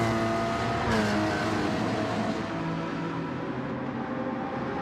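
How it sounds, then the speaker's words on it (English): Race car engine in a sim racing game at Interlagos, a steady high-pitched drone holding one continuous note through a hot lap, with a brief shift in pitch near the start and no talking over it. "he is moving that Nesquik car right along"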